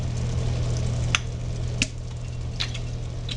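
Oil sizzles steadily in a hot pan while brinjal curry is being prepared, a soft continuous frying hiss broken by a few faint clicks and taps of utensils against the pan.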